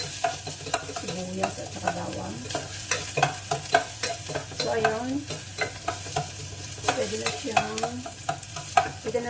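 Mung bean stew with pork leg being stirred and fried in a pan, a steady sizzle under repeated scraping stir strokes close by, with no talking.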